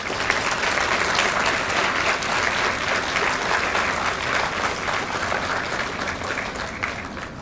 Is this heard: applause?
yes